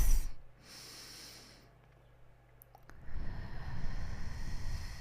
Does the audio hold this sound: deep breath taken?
yes